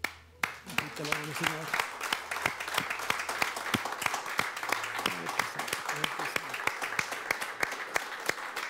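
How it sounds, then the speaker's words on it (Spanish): A church congregation bursts into applause after a prayer, many hands clapping loud and close with sharp individual claps over sustained tones, while a voice speaks briefly over it. "¿Le puedes dar un aplauso al Señor?"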